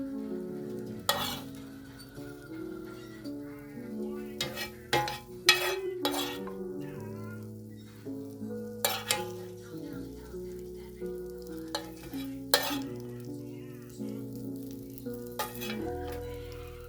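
Sausage for gumbo sizzling in a pot, with a steady fry and repeated sharp clinks and scrapes of a spoon stirring against the metal, close by, under music.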